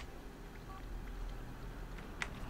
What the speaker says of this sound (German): Und Mima zockt Handygames